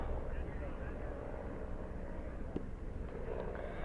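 A helicopter flies over a baseball field during a league championship game, heard as a steady, even low rumbling drone that fills the whole stretch.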